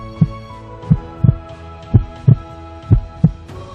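Pounding heartbeat sound effect: loud, close double thumps repeating in a steady rhythm, about seven beats over a low sustained hum.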